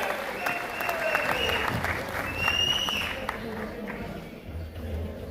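Sustained audience applause at a company event in Delhi with political leaders present, a dense steady wash of clapping lasting throughout with crowd noise beneath, loud and close.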